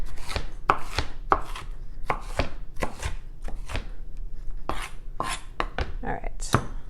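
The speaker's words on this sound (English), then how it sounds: "I'm going to chop up my onion" A knife chops an onion on a cutting board in a home kitchen, with about twenty crisp, close taps that come in an uneven but steady rhythm, some in quick pairs, alone without talk.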